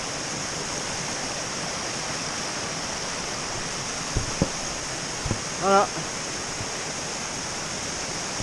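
Rushing stream water on the Torres del Paine trek, heard from within the stream while walking through it: a steady, loud broadband wash throughout, with a few brief clunks and a short spoken word near the middle.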